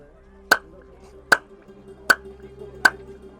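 Four sharp hand claps at Golconda Fort, evenly spaced about a second apart, each crisp and loud with a short ringing echo in a quiet stone space.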